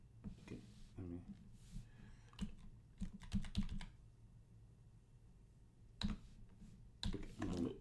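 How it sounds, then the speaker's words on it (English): Bursts of typing on a computer keyboard, quick clusters of key clicks separated by pauses, close and fairly quiet. "I can't see what I'm typing."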